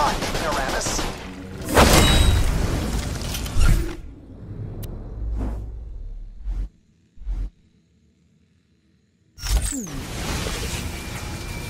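Gunfire aimed at a bot in Borderlands: The Pre-Sequel: loud bursts of shots with whooshing effects early on, then scattered isolated shots and mechanical clanks around a quiet stretch before noise returns.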